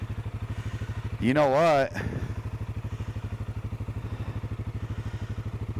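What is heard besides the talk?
Yamaha XT350 motorcycle engine starting and running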